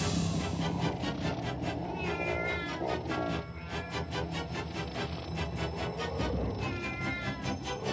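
Cat meowing in a VHS home-video commercial, several drawn-out, wavering meows over a busy background of music and effects.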